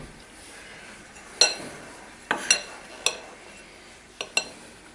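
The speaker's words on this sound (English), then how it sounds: "sprinkle it over your flour, and just mix that in with a spoon" A spoon stirring dry ingredients into flour in a bowl, several sharp clinks and scrapes against the bowl coming in an irregular sequence over a soft background hush.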